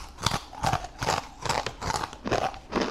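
Loud, close crunching and chewing of spicy rolled Takis tortilla chips, with about seven sharp, evenly spaced bites in quick rhythm and no talking.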